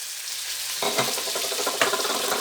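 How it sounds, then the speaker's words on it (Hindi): Garlic and tomatoes fry in hot oil in a pan while aloo baingan sabzi is cooked, giving a steady close sizzle that jumps louder as ingredients are added around the one-second mark and again near the end. "कुछ सेकंड के लिए भूनेंगे ताकि जो लहसुन डाला है उसकी थोड़ी सी खुशबू जो है वो स्मेल चली जाए।"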